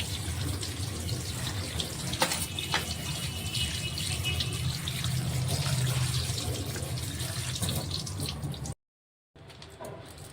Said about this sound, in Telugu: ఇలా హోల్స్ ఉన్న బౌల్లో అయితే వాటర్ కిందికి జారి